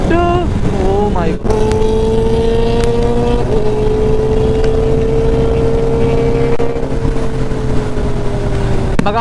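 A Kawasaki ZX-10R racing with an aftermarket exhaust gives a loud, close engine drone whose pitch climbs quickly at first, then holds high, steady revs for the rest of the run.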